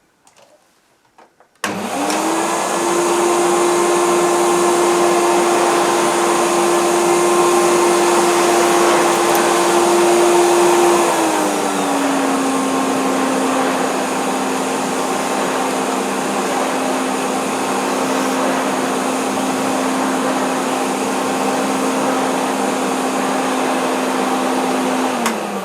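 A 1983 Hoover Freedom Electronic 1000 (S4254) vacuum cleaner switches on and runs steadily on a rug with a loud, close motor whine that dips slightly in pitch partway through, with no talk over it.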